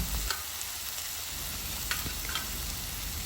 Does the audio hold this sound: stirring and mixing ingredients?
yes